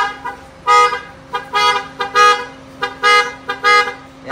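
An aftermarket Rising Sun horn module on a car sounds a series of loud, close honks in a quick irregular pattern of short and longer blasts, with a steady hum underneath.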